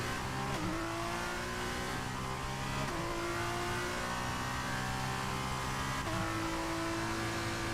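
A Formula 1 race car engine in the F1 23 racing game screams at high revs, its whine sliding down on lifts and climbing again as the throttle reopens, a loud continuous engine note with no talk over it.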